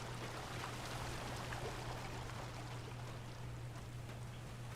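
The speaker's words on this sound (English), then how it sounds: "we've got a waterfall." A waterfall flowing in the video game Obduction, a faint, steady hiss of falling water with a constant low hum beneath it and no breaks.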